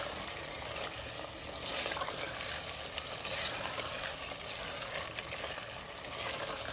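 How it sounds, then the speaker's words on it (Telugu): Karnataka-style chicken donne biryani being stirred in a pot, a steady close-up scraping and soft sizzling that runs without a break. "మనం మధ్యలో నీట్గా కలుపుతూ ఉండాలన్నమాట"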